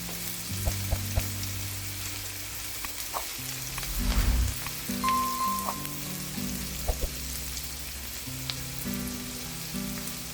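Garlic and onion sizzle steadily in a hot frying pan, a continuous close crackle with occasional stirring scrapes and a brief louder burst partway through, no voices.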